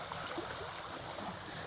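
Quiet, steady rushing of flowing water, a soft continuous wash without voices, heard from some distance.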